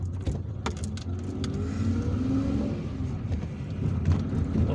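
Steady car traffic on a busy street in Algiers near La Concorde, a continuous low engine drone and road rumble from several passing vehicles, fairly close and even throughout, with no voices.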